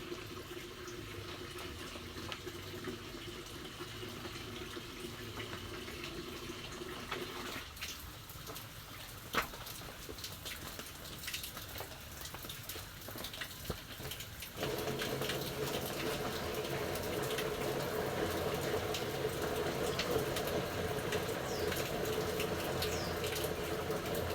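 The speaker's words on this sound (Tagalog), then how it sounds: "luluglugan daw po ni Tilat yung drum ng mainit na tubig para daw po matanggal yung amoy." Hot water sloshing and pouring inside a drum to rinse out its smell while preparing homemade liquor, a steady watery rush that grows louder and fuller partway through.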